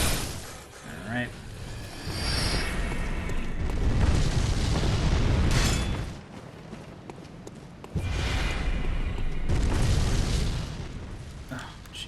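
In the video game Bloodborne, a big monster's fireball explosions boom and roar in long rumbling bursts, one after another, loud and heavy, while someone talks over them.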